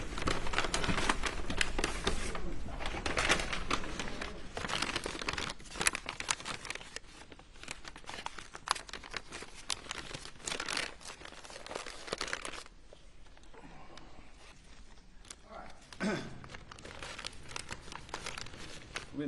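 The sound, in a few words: plastic evidence bag being handled and crinkled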